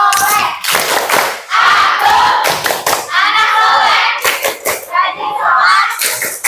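Children chant and clap together in a rhythmic Indonesian "tepuk anak soleh" clapping song, bursts of hand claps falling in time with their loud group voices.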